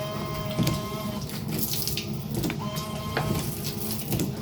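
The windshield washer nozzles on a Mercedes-Benz W203 spray fluid in short repeated hissing bursts with a faint pump whine, heard close and fairly quietly.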